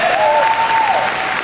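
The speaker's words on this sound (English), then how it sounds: "Give yourself a round of applause." Loud applause from a corporate business audience fills the room, dense and steady throughout, with a faint whistle-like tone drifting over the clapping.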